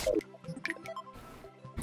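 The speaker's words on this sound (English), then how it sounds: "how do I get rid of that dripping water?" Dripping water in the Terraria video game plinks in a few scattered, fairly soft droplets with short gaps between them.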